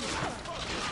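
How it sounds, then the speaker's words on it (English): Cannon salvo in the video game Assassin's Creed Revelations, a dense, loud burst of overlapping booming blasts that fills the short moment with rumbling, crackling noise. "hold the release for cannon salvo at that location"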